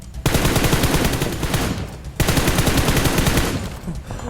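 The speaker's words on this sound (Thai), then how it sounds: "ข้างหน้ามันมีคนยิงกัน" Rapid automatic gunfire in the PUBG Mobile battle game, loud and close, firing in two long sustained bursts split by a brief pause.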